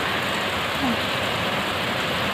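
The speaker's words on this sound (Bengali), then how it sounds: "বাইরে কি জোরে আপনার বৃষ্টি হচ্ছে" Heavy rain falls outside with a steady, dense wash of broadband hiss that continues without a break, and no voices are heard over it.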